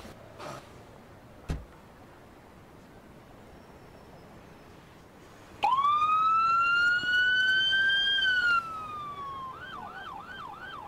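Ambulance siren in the video game Emergency 4, a loud steady wail starting abruptly mid-clip and holding for about three seconds before shifting to a faster warbling yelp, heard alone over faint background noise.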